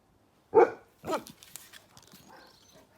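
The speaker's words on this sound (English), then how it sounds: "Sorry about the dogs." Dogs bark nearby: one sharp bark, then a second, followed by softer yips and whimpers fading out.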